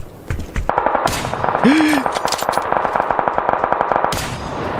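Rapid automatic gunfire in the PUBG video game, a close, loud burst of repeated shots in quick rhythm with sharp isolated reports before and after it, and a brief voice sound.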